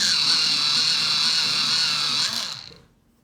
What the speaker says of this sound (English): Oh, obviously this needs to be sharpened.